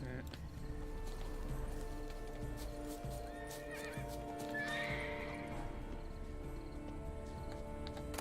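A white horse in The Witcher 3 gives a loud whinny over clip-clopping hooves and a game soundscape, with someone talking at times.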